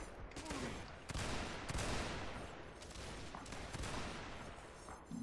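Musket volleys in the Napoleonic Wars mod of Mount & Blade Warband during a naval assault, rattling in ragged overlapping bursts with sharp cracks near and far, a few standing out loudly amid a dense crackle.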